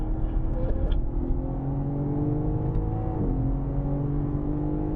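A BMW M car at full throttle on the Sonoma Raceway track, a loud sustained engine drone heard from inside the car, its pitch climbing steadily with a brief dip as the gears change.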